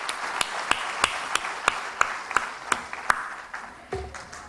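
Audience applause at a presentation: a soft wash of clapping with sharper individual claps landing at a steady, even pace, fairly distant and quiet.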